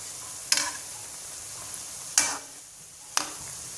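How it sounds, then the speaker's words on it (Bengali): Pumpkin flower fritters in egg batter sizzling in oil in a pan, with three sharp hissing bursts as they are stirred or flipped over a soft steady frying bed. "আবার আমি এক মিনিট করে উল্টে দিচ্ছি দেখেন বড়াগুলো কত সুন্দর বলের মতো ফুলে উঠছে"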